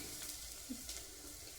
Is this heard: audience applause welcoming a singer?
no